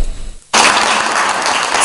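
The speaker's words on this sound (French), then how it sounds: "C'est sous les applaudissements que l'on a procédé à la signature des 3 contrats de dons" A crowd breaks into dense, sustained applause after a brief hush, filling the room loudly at the signing of three donation contracts at an official Senegalese ceremony.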